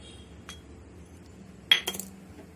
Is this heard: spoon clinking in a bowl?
yes